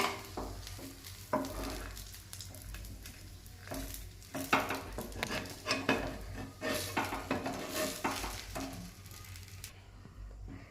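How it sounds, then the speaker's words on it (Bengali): Patishapta pitha batter going into an oiled frying pan: a low sizzle with intermittent clinks and scrapes of a ladle against the pan, quiet and close, fading near the end, no voices. "আমি তেল দিয়ে দিলাম, এবার ব্যাটারটা দিয়ে দিলাম।"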